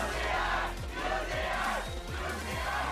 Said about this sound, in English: He's got his fan crowd here and everything. The crowd says it all.